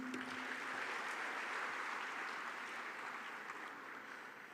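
An audience at a conference applauds a minister, sustained clapping from many hands that holds steady and then tapers slightly toward the end.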